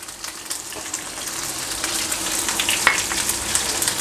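Chicken Manchurian with chili flakes and salt sizzles and fries in a pan, a steady bright crackle close by with occasional stirring scrapes, no voices.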